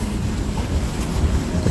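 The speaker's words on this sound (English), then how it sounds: "It's windy." Strong wind outside on the deck of a cruise ship at night, a loud continuous roaring buffet against the microphone with low rumble and no pauses.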